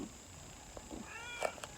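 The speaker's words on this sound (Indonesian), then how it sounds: "Wah, ada kucing." A cat near a bamboo gateway gives a short, fairly faint meow over quiet outdoor background noise.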